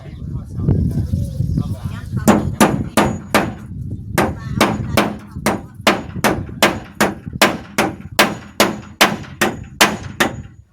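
Steady hammer blows ring out one after another, about two per second, sharp and close, with a low rumble of background activity underneath.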